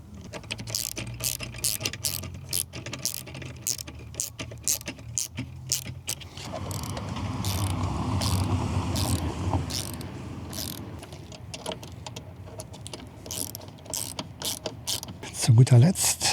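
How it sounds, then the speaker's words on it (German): Screws on a Lambretta G350 luggage rack being tightened with a ratchet, giving repeated close clicking and ratcheting bursts with short pauses, steady throughout and with no talk. "dann heißt es einfach nur alle Schrauben anziehen."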